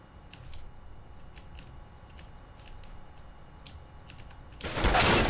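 AK rifle fire in Counter-Strike, heard as a loud, harsh burst near the end after several seconds of quiet ticking and clicking game sounds.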